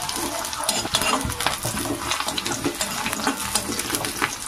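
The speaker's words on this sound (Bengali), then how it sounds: "পেঁয়াজ মরিচগুলোকে হালকা একটু ভেজে নেব।" Chopped onions, chillies and minced garlic fry lightly in a pan, a steady crackling sizzle broken by scraping stir strokes and faint clinks, with no voices.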